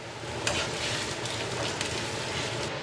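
Pork belly stir-frying in a hot wok, a steady close crackling sizzle with brief spitting pops and occasional stirring scrapes, no talking.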